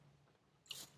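A single crisp, crunchy bite into a crispy bacon chicken club sandwich lands near the end of a quiet second, a short sharp crackle close to the microphone.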